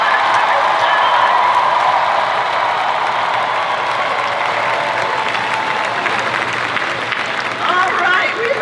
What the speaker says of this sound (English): Can we applaud our leaders who are voting for the first time?